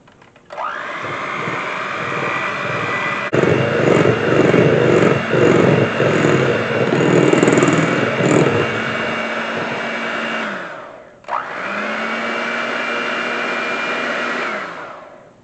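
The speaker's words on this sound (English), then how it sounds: "we're going to mix this all together with my mixer" An electric hand mixer whirs steadily while beating keto chocolate donut batter in a bowl, a continuous motor drone that briefly stops and restarts, with no talking.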